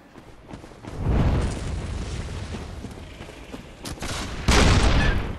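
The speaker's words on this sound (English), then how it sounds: "What is firing the cannon?" Cannon fire booms repeatedly in the video game Bloodborne, loud rumbling blasts with the biggest burst near the end, and no talk over them.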